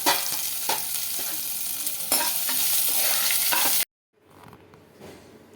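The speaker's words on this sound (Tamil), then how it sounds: "பச்சை மிளகா மிளகா வெத்தல் இஞ்சி எல்லாத்தையும் இதில் போட்டுட்டு இதையும் நல்லா வதக்கி விட்டுடலாம்" Green chilli, dried chilli and ginger sizzle and fry in a hot pan while being stirred, a loud steady crackle with scraping strokes that cuts off abruptly into quiet room tone.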